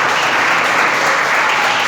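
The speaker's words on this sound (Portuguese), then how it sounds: "Mais uma salva de palmas para o Senhor Jesus." A church congregation at an Assembleia de Deus service claps together, a dense, loud, steady burst of applause filling the whole moment.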